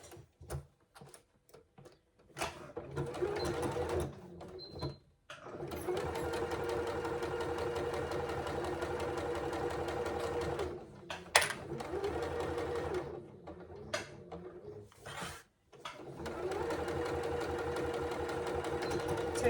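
Sewing machine stitching a zip pouch: steady motor whir in long continuous runs with brief pauses and stops between seams, close and fairly loud, with no talk.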